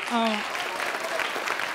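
A studio audience at a Tamil television talk show claps, a brief patch of applause while a voice rises over it at the start.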